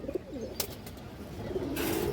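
Soft cooing from a pair of short-beaked pigeons in a seller's pen, low murmuring coos rising and falling over about two seconds with a faint rustle, no talk.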